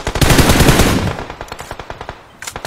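Rapid automatic gunfire in PUBG Mobile: a loud, dense burst of shots that thins into a steady rhythm of single close cracks, with one more shot at the end.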